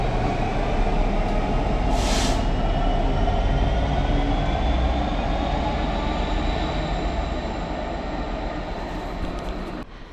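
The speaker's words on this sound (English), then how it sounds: "Engine just about to come through." Freight train passing through a railway station with a 1930s-style signal box, a loud, continuous rumbling and clattering roar that runs steadily throughout and eases slightly toward the end.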